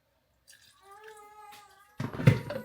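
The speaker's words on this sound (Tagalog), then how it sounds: "Lagyan ko ng konting tubig." A little water is poured into dry blended baby food, a short splashing gush near at hand that follows a brief tonal voice-like sound.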